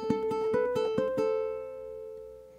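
A ukulele plays the opening bar of a riff: a run of about eight plucked notes over a sustained open-string pedal tone, then a held final note ringing out and fading. Close, clean and unaccompanied, with no talking.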